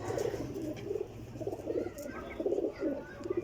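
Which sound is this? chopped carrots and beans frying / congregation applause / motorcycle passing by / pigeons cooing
pigeons cooing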